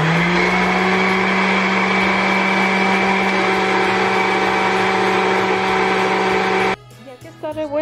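Electric blender whirring loud and steady for nearly seven seconds while mixing pumpkin spice coffee, then cutting off abruptly as a voice starts talking.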